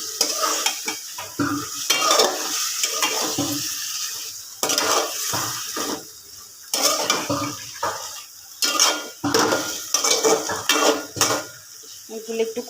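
Chicken is stirred into fried spice masala in a pot. Metal scrapes and clinks come in bursts over a low sizzle, with pauses between the strokes and a brief voice now and then.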